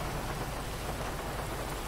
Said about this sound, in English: Gotta love this sandy shores weather, middle of the desert, middle of the night, and it's raining